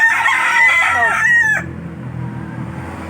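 A loud rooster crows once, close by. The drawn-out call breaks off and leaves a low background rumble.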